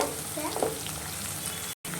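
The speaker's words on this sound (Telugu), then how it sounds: "ఇప్పుడు ఆనియన్ మిర్చి బాగా ఫ్రై అవ్వాలి" Loud, continuous sizzling of onions and chilies frying in a pan, with stirring scrapes; briefly cuts out near the end before resuming.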